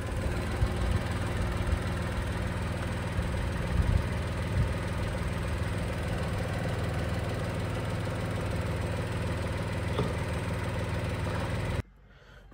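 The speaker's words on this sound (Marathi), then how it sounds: "हा पहा, हा काही आवाज आहे इंजिनचा" A six-year-old Tata Nexon's engine idles steadily outdoors, a continuous even drone that holds throughout and cuts off abruptly near the end.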